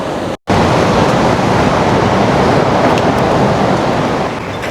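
Surf at Laguna Beach, California washes in as a steady, loud broadband roar of breaking waves, mixed with some wind buffeting the microphone.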